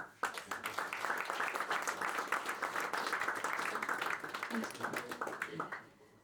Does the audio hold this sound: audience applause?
yes